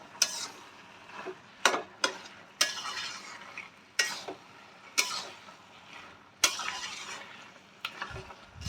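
A spoon scrapes and clanks through vegetables with fish roe and fish head in a pan, giving about eight sharp, irregular strokes over a soft, steady sizzle, close and fairly quiet.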